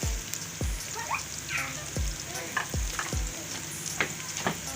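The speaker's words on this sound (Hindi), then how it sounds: "प्याज हमारा फ्राई हो गया, अब मैं ये लहसुन अदरक का पेस्ट शामिल कर रही हूँ।" Sliced onion with garlic ginger paste sizzles and fries in a pan, a steady close hiss broken by repeated soft stirring scrapes at an even pace.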